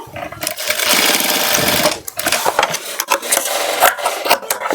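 A sewing machine stitches a pant back pocket in a steady, close mechanical whir, then pauses and resumes in shorter bursts with handling of the fabric.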